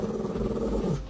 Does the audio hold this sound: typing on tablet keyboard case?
no